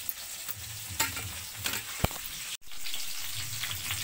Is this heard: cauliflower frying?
yes